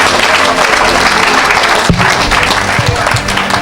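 A crowd at a church mission gathering applauds for Cameroon, a dense, steady roar of clapping that is loud and close, with a few thumps partway through.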